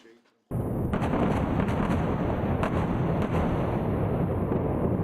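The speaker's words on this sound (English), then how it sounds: "As the vote came, 20 explosions rocked Beirut in just 2 minutes." Shelling explosions rumble across Beirut during a war bombardment by Israeli warships, a sudden loud onset then sustained heavy booming and crackling roar, dense and continuous, with a few sharper bursts.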